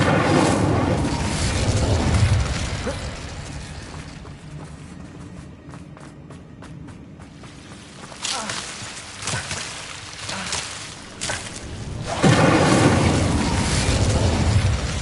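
Repeated Incendio fire spell casts in Hogwarts Legacy, roaring flame bursts near the start and again toward the end, with running footsteps and quieter clicks in between, a voice calling the spell.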